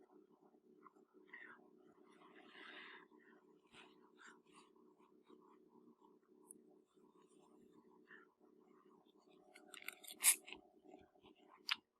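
Soft, quiet chewing and biting of fresh thin pasta and a hot meatball, close up, with small wet mouth sounds and a few sharper clicks, over a low steady background hum.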